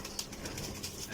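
Flying pigeons coo softly at a pigeon keeper's loft, with faint repeated low coos that blend into quiet background noise over a short moment.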